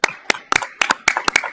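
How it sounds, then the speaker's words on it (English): A handful of people clapping briefly at a city commission meeting, with distinct, uneven claps close by rather than a full crowd roar. "we need to give you a round of applause"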